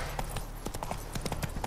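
Hooves of Roach, Geralt's horse in The Witcher 3, clip-clop at a steady trotting rhythm, close and clear, with a low rumble of ambient game sound beneath.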